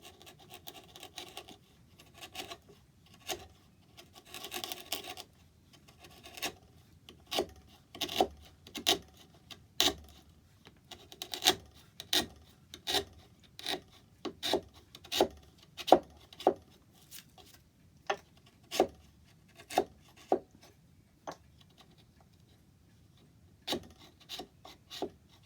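An oak board's edge is trimmed straight against a squared scrap-wood guide, producing a long series of sharp rasping strokes in a steady, close rhythm with no talking.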